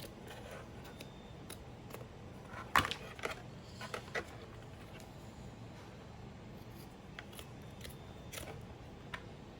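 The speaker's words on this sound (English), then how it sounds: "And then you can just come in here and just carefully trim away the excess." Scissors trimming excess material from Death Trooper thigh armor: faint, sparse snips and small clicks close by, with one sharper cut standing out against a quiet background.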